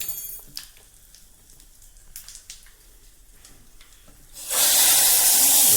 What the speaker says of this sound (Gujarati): દાળનો વઘાર કરી લીધો